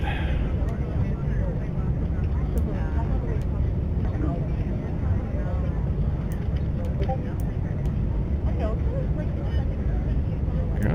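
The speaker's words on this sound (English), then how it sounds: "the engines restarted. Don't know why they cut out." Engines of a Dornier Do 328 aircraft running in the X-Plane 11 flight simulator, a steady, loud broadband drone that holds constant throughout with faint ticks above it.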